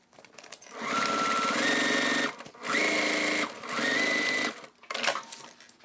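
A sewing machine stitches around a crossbody bag in three sustained motor-driven runs, the speed rising within each run, with short pauses between them and a brief burst at the end. The machine is close and loud.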